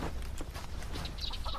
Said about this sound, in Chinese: 你这是 养鸡啊！